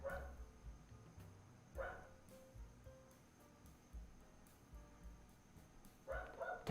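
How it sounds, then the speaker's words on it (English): Small dogs barking in short bursts a little way off from a home workshop: one bout at the start, another near two seconds, and a louder flurry at the end, with quieter yips between. "Why are these dogs going nuts?"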